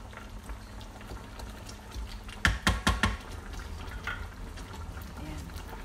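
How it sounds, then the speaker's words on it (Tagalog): Lamb biryani bubbles in an Instant Pot with a steady low simmer, broken by a short run of four or five sharp clicks or taps near the middle. "Ngayon, hayaan muna natin kumulo siya hanggang sa matapos ang ating"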